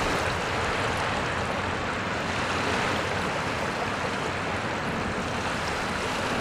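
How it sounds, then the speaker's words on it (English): Large waves rolling in and breaking on a sandy beach along the Mississippi River, a steady, loud wash of surf and churning water with no pauses and no voices. "So we can see these waves moving in really big today."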